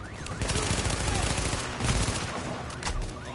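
Rapid gunfire bursts from a shooter video game, The Division on PS4, crackling loud and dense through the whole stretch with a few sharper shot peaks.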